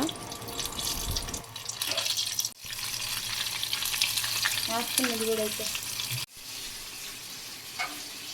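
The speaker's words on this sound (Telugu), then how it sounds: "ఇప్పుడు ఇవన్నీ బాగా కుక్ అయ్యేటట్టు బాగా వేయించుకోవాలి 2 సైడ్న." Chicken leg pieces for homemade KFC-style chicken fry in oil in a pan, giving a steady close hiss and crackle broken by a couple of brief gaps and soft clinks.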